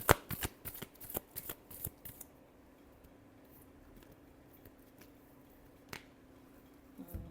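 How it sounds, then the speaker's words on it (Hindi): Tarot cards being shuffled make a quick series of crisp riffling slaps and snaps up close, followed by near silence and one last isolated flick. "Last shuffle."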